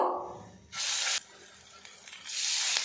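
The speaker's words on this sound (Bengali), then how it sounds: "বাকিগুলো আমি একইভাবে ফ্রাই করে নেব।" Puishak (Malabar spinach) leaf fritters frying in hot oil, two bursts of loud sizzling hiss separated by a quieter stretch, close up with no talking.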